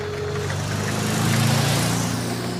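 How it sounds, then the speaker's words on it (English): A magnificent motorcar in a story scene rumbles steadily past on a country road, its engine drone loud and close and swelling slightly as it goes by, with no voices over it. "suddenly a magnificent motorcar drives past"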